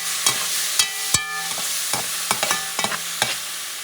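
Grated tomato sizzles in a pan of sofrito for Puerto Rican asopao, with a steady frying hiss broken by repeated scraping and clinking stirring strokes.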